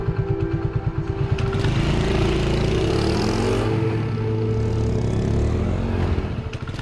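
Motorcycle ridden in to park, its engine loud and close, with putting idle pulses at first and then a steady rumbling run that eases off at the end.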